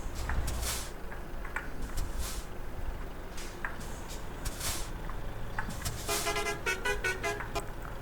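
A truck in the Euro Truck Simulator 2 game rolls with a steady low engine rumble, broken by short horn toots and hissing air-brake bursts, loud and continuous throughout.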